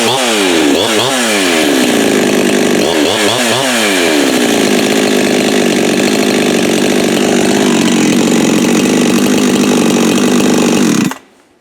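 A Husqvarna 572 chainsaw engine, loud and close, with two quick revving sweeps at the start, then a steady high-pitched full-throttle scream that holds for about ten seconds before cutting off abruptly. No voices.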